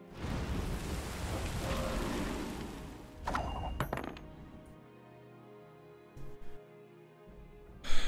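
Rain and thunder effect from the card game Gwent: a rushing wash of rain for a few seconds, then sparkling chimes and short impact hits fading into quiet.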